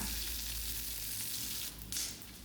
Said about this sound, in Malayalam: ഇതാ വെളിച്ചെണ്ണ ഒഴിച്ച് നമ്മൾ കടുക് വറ്റൽമുളക് പിന്നെ കറിവേപ്പില